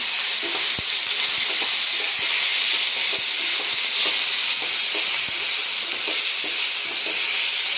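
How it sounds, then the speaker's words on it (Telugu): Cluster beans frying in hot oil, a loud steady sizzle and hiss up close, broken by repeated scraping clicks of stirring. "ఇలా ఆయిల్లో బాగా ఫ్రై చేయాలండి"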